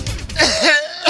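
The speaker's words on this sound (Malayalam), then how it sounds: "ഒരാഴ്ച ഈ ചുമ കൂടെ കൂടിയിട്ട്" A short throaty cough with some throat clearing, close and fairly loud, heard in a few quick bursts from a single person on a comedy show.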